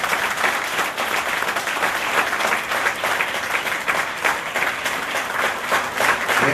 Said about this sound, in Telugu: Offer a thanksgiving clap to the Lord.